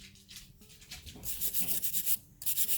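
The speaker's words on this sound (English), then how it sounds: "I'm just going through with a steel bristled brush" A steel-bristled brush scrubs and burnishes an electroformed metal-on-resin piece in bursts of bright, hissy rasping strokes, close and fairly loud, with no voices.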